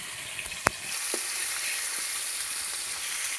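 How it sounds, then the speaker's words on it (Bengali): Rupchanda pomfret fish frying in mustard oil, a steady close sizzle and crackle throughout with a sharp clink near the start and a couple of soft taps, no talking. "যতক্ষণ মাছ ভাজা হচ্ছে"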